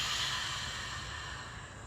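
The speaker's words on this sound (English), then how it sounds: "There's a sound that you may have noticed that we make in yoga." A single Ujjayi yoga exhale drawn through the constricted throat gives a soft, breathy hiss that fades slowly over about two seconds, heard close and alone.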